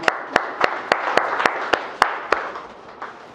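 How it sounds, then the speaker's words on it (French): Applause from a conference audience, a small group clapping in a fairly regular, sharp rhythm close by that thins out after about three seconds. "Applaudissez pour vous."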